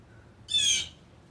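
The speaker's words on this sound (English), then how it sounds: "But oh my gosh, that bird." A bird in a vegetable garden near pepper and bean plants gives one loud, harsh squawk, a brief rasping call close by against otherwise quiet outdoor air.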